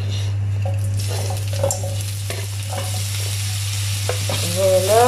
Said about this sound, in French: je vais les faire revenir dans un tout petit peu d'huile d'olive